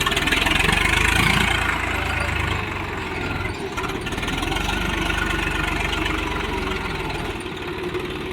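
Swaraj tractor diesel engine labouring through a muddy road, a loud, steady low rumble with a slight dip midway before settling back into a continuous working drone, no talk over it.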